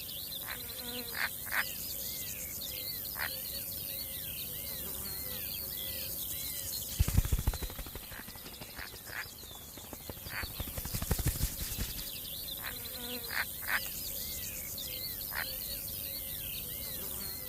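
A snouted grasshopper in Puszta salt-and-sand grassland chirps in rapid repeated trills among other buzzing insects, a steady close chorus with a brief louder rustling disturbance near the middle.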